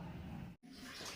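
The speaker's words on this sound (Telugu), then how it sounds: "కారపూసల పిండి ఇట్లా నీళ్ళు పోసి మంచిగా కలుపుకోవాలి." Water is poured into karapusa flour dough mixed with chilli powder and salt, a short gushing splash broken by a brief gap before the pouring resumes.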